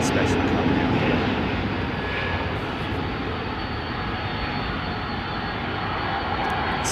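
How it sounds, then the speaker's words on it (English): Jet engines of a Boeing 767-400 test bed roar loudly and steadily at London Heathrow Airport, a dense broadband rumble that fills the whole stretch without letup. "Listen to those beautiful engines"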